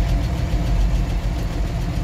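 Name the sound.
tractor engine running at a tractor run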